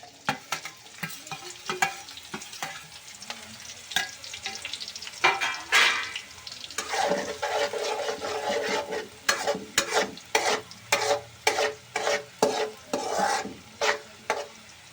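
Green onions frying with cumin in a pan, loud rhythmic scraping and stirring strokes over a continuous sizzle that settle into an even repeated back-and-forth pattern. No speech.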